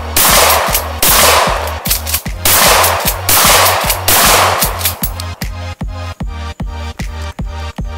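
An AK-47 or 30-06 rifle is fired outdoors, loud and close. Quick clusters of cracking shots come first, then a run of evenly spaced single reports, with no talking.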